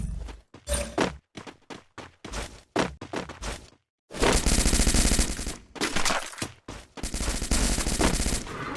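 Loud, close gunfire from a video game: scattered single shots and short bursts, then long stretches of sustained automatic fire, with no talking.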